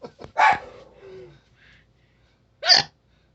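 A woman hiccups sharply and loudly, two distinct hiccups with a pause between them, close by in a quiet room; a brief murmur follows the first.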